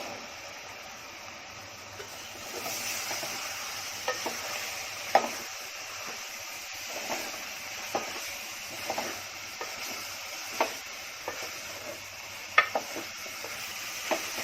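Steady sizzling of mushrooms frying with spices in a pan, with repeated scraping clicks of a spoon stirring at an irregular rhythm throughout.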